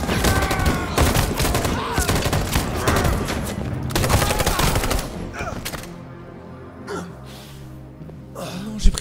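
Dense bursts of gunfire from the video game Detroit: Become Human hit the player, loud rapid volleys that fade toward the end, with a few sharp gasps and later isolated shots.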